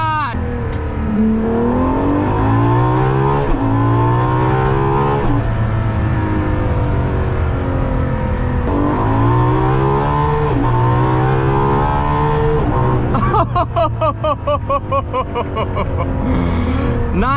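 A high-revving Ferrari LaFerrari engine screams loudly through repeated rising gear pulls at full throttle toward 9,200 rpm, then crackles and pops near the end; no talking.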